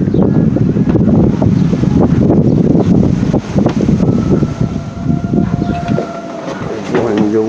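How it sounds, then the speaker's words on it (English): Strong southeast wind buffets the microphone aboard a sailboat with a constant low roar and rumble, while a faint voice speaks underneath. "Very windy today, southeast."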